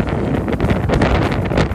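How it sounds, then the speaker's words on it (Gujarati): Strong wind batters the microphone high on Girnar mountain, a loud continuous roaring rumble with gusty surges throughout. "શું પવન છે"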